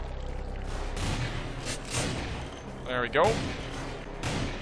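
Video game gunfire pops off in a few separate bursts against a steady background rumble, with someone speaking briefly over it.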